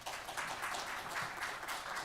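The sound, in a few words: audience applause for presenters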